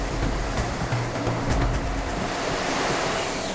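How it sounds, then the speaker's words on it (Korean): Typhoon waves crash against a coastal seawall in Busan, a dense, roaring surge of surf with a few heavier bursts, continuous and loud, with wind rumble underneath. "파도가 해안 옹벽을 넘어 해안도로까지 밀려오면서"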